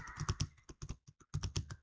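Rapid typing on a computer keyboard while entering a chart title in an Excel spreadsheet, close, clicky keystrokes in quick bursts with a short pause midway, no talk.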